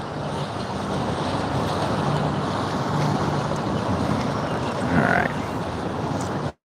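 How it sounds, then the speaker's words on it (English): A small Sea Hunt motorboat motors past under a bridge, a steady outboard rumble blended with water wash and wind buffeting the microphone, swelling briefly as it speeds up before cutting off. "Let this guy pass real quick in his little boat."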